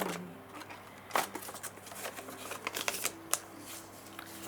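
Paper being creased and folded for origami, close-up soft rustles and crisp crinkles in irregular bursts with a few sharper snaps, quiet and intimate with no voices.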